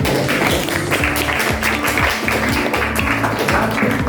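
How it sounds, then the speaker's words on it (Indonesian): A class audience in a university geography lesson claps together, a busy, loud patter of hands holding steady from start to finish, with a low tonal hum running underneath. "kita beri tepuk tangan untuk"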